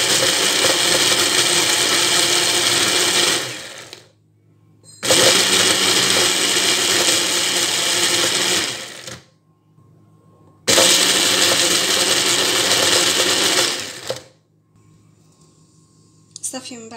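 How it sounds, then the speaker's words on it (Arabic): A kitchen blender grinds Lotus biscuits with sugar in three loud, whirring bursts of several seconds each, with short pauses between them and a faint voice during the gaps. "ضفت السكر، غادي نطحنو مزيان"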